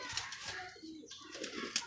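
Soft cooing from pigeons kept in a loft, heard fairly faint over a low background murmur of voices and room noise.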